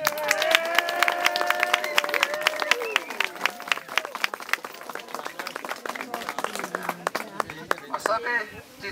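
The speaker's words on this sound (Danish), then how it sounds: "stort bifald nu" A crowd at the Tisvilde Billedfestival 2016 photo festival breaks into sustained applause for a contestant, dense rapid clapping that stays loud before thinning out, with a voice emerging at the very end.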